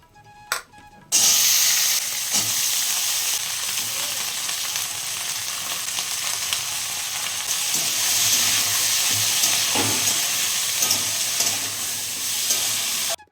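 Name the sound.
yardlong beans frying in a pan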